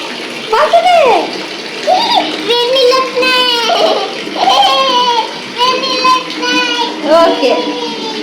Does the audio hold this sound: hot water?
yes